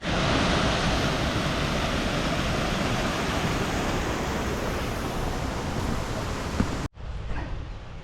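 River water flows beside a forest bike trail, a loud, close, continuous broadband rush that holds steady before cutting off abruptly near the end, with fainter flowing water after the break.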